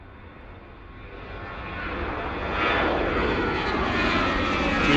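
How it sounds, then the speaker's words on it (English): An Airbus A320 jet takes off from Bristol Airport, its engine roar building from a broad rumble to a louder, rising, rushing thunder as the aircraft climbs away, heard fairly close and alone. "Airbus A320 heading out to Split."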